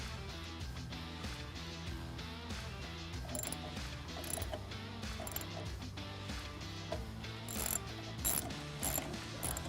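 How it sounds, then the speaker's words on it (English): A ratchet fitted with a 10mm socket tightens nuts while a Bestop Supertop Ultra soft top is fitted to a Jeep Wrangler JKU. Close, steady clicking runs through the whole stretch, with a few sharper metallic taps and no talking. "Tighten these up using a 10mm socket, but don't over tighten them"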